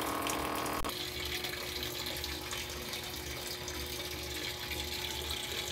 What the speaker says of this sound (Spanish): Ahí está cogiendo el nivel de agua.